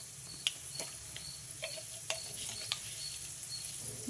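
Mustard seeds, chana dal, urad dal and cumin crackle in hot oil for a tempering, giving a steady quiet sizzle broken by scattered sharp pops, with no voices.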